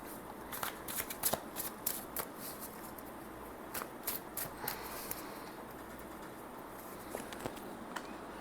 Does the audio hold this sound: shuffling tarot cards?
yes